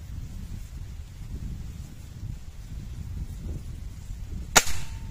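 One sharp shot from a Hatsan HT135 gas-ram spring air rifle aimed at an egg target outdoors, a single crisp crack near the end after quiet wind-like background.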